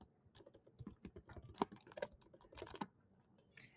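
Quiet clicking of keys on a computer keyboard, an irregular run of soft taps with a couple of sharper keystrokes, close up and alone.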